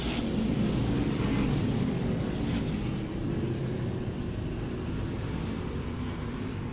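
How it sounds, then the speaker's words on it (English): Race cars at Star Speedway roar off the green flag in a modified feature, a dense, steady engine rumble with wind noise, heard from a distance without talk. "Spinning the tires and coming up through the gears, Anthony Nocella takes the green."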